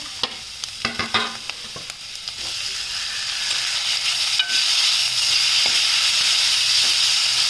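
Grated carrot and tomato fry and sizzle in a pan, starting with a few sharp stirring clinks and scrapes, then settling into a steady, close, loud hiss of frying.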